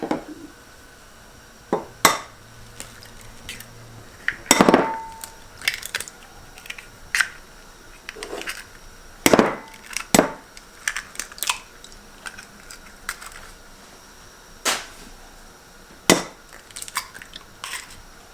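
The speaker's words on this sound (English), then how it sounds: "So let me go ahead and take care of the eggs. Get them cracked open." Eggs being cracked open for chocolate cake batter, a series of sharp, irregular cracks and taps spaced several seconds apart, close and crisp over a quiet kitchen background, with no talk.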